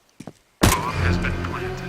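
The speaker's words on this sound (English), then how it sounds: "Planting the bomb." A bomb being planted in CS:GO during a professional Cloud9 vs BIG match at the PGL Major Krakow 2017: two brief clicks, then a loud sustained mechanical whir with tonal hum that carries on to the end.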